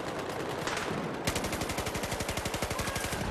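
M27 automatic rifle fire in Battlefield 4: after a brief muffled shot and some rustling, a rapid, steady burst of evenly spaced gunshots rattles out, each crack sharp and close.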